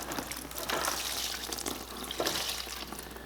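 Liquid from a GM vehicle's fuel system pouring and splashing into a pan, a soft, uneven gush with brief louder spurts, close and fairly quiet, no talking.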